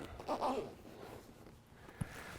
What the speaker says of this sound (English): put our zipper back on